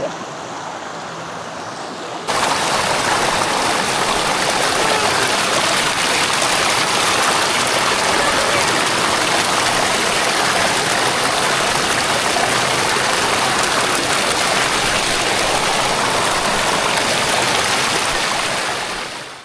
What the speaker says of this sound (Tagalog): Ayun, nakakita tayo ng magandang ilog.